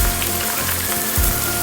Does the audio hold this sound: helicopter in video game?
no